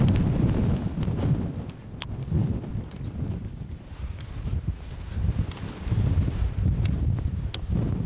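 Strong wind gusting across a soggy hillside, roaring and buffeting the microphone in uneven surges with a few sharp knocks, no voices.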